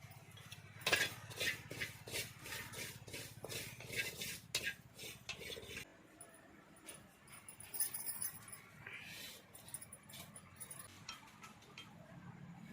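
Cumin seeds dry-roasting in a pan, with rapid rattling and scraping from stirring, busy at first and then quieter with scattered clinks.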